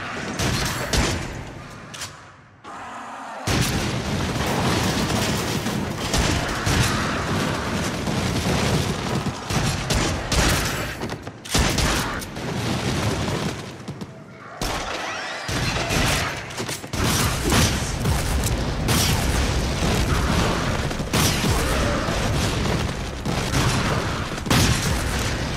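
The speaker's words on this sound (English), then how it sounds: "That flare gun. That thing is crazy." Booming shots from a flare gun in the horror shooter Rush of Blood on PSVR, loud blasts and bursts of firing that repeat over a long stretch, with a few brief breaks of near silence.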